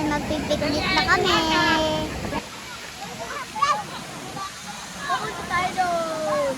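River water rushes steadily at an outdoor picnic spot, a broad continuous wash of flowing water under people talking and calling out nearby.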